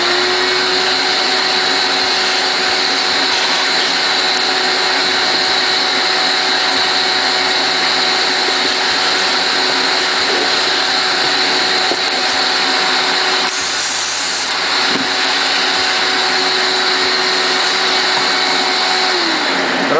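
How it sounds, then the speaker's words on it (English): A vacuum cleaner sucks loose copper off a board: a loud, continuous, steady motor whine with a constant hum that holds for the full twenty seconds, briefly dipping once midway. "So now I'm going to vacuum it."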